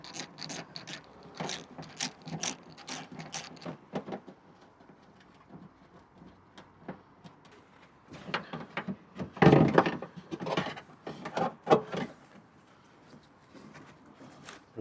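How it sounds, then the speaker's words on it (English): Ratcheting clicks and metallic clunks come close up as bolts and an old mechanism are worked out of a car, in bursts with short pauses and a louder cluster of knocks near the end. "We'll take the 2 bolts out, push it back through, and it comes out this center hole here."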